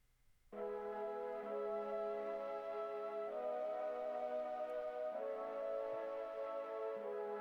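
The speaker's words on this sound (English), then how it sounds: "the first layer is some nice synthy flutes" A synth flute layer plays sustained chords after a brief silence, steady held tones with a couple of chord changes, clear and alone.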